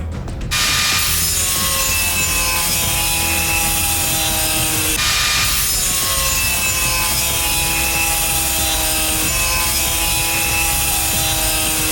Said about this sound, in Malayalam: ഇനി ഇത് ഈ മാർക്കിലൂടെ നമുക്ക് കട്ട് ചെയ്തെടുക്കണം